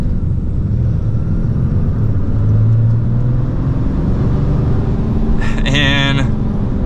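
A RAM 3500 Limited Mega Cab pickup truck accelerates, its engine building into a loud, steady rumble heard from inside the cab, with a brief higher whine near the end.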